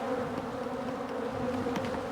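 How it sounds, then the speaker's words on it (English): Agitated honey bees swarm around an opened hive in a dense, continuous buzz, close and steady with shifting pitch as individual bees pass near. "Boy, they are pissed off. I'll probably get stung before the day's over by these bees"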